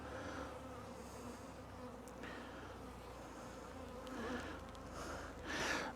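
Honeybees buzz around an opened hive frame on a cool day, a continuous soft drone with individual bees passing close to the microphone now and then.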